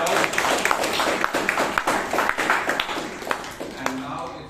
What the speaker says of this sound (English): Please give all of yourselves a big round of applause.